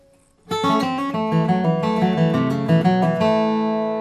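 An electric guitar plays a fast sweep-picked lick of quickly rolling notes ending in a G run, with a sustained ringing final note and no voices.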